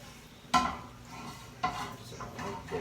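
A metal cooking pan being handled for making breakfast burritos, a few distinct clanks and knocks spaced apart, fairly close and quiet.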